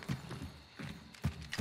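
Horses in the Hunt: Showdown game, a few hoof clops and snorts in short bursts, moderately near and fairly quiet against low background ambience.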